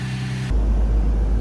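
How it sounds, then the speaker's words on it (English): An Infiniti G35 with a VQ35DE engine and a single exit straight pipe exhaust idles while warming up. The sound shifts partway through into a deep, steady, close rumble. "And now we let it get up to temp."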